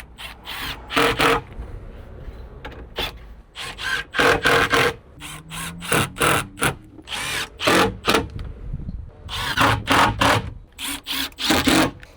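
Power driver sinking screws into a drawer system for a sixth-generation non-hybrid Toyota 4Runner, repeated loud buzzing bursts of a second or so each, separated by short pauses, close up.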